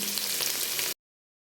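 Chopped onions sizzle in hot oil with whole peppercorns and cinnamon in a pan, a steady close hiss that cuts off abruptly after about a second.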